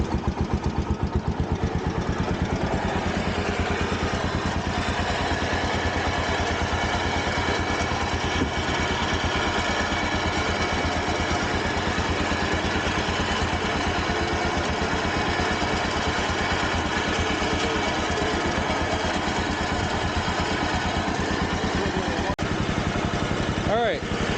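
A 1973 Ariens tractor engine runs on choke, holding a steady loud mid-pitched idle throughout, close and continuous.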